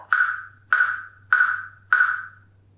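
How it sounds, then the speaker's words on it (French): Four sharp wooden clave clicks, evenly spaced about every 0.6 seconds, bright and resonant, with a low hum underneath. "Voici un son de clave."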